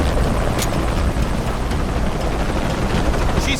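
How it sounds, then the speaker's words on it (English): A helicopter in the video game Shadow of the Tomb Raider thunders with a dense, constant rotor-and-engine roar, loud and close throughout, with brief sharp bursts over it. "Always hated helicopters."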